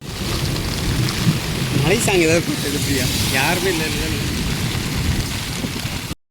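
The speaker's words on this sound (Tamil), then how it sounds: "சரியான மழை சரியான மழை" Heavy rain pours as a steady, loud hiss throughout, with people talking briefly over it midway.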